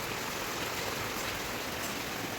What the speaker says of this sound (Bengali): আর এদিকে মুসুল ধারায়, আর এদিকে বৃষ্টি হচ্ছে।